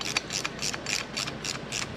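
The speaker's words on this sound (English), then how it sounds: "Now I just stagger these, and I'm tighten the bolts down, get them all snug." Bolts being tightened on the side cover of a Go Power Sports MB200 minibike motor, a steady run of quick ratchet clicks in rhythmic bursts, close and moderately loud, with no talk.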